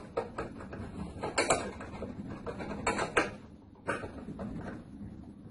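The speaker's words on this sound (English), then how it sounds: "we have a little tool here, just to tighten these nuts here at the back" Small hand tool tightening two wing nuts at the back of a Hurley bander, giving faint, scattered metallic clicks and ticks in a quiet room.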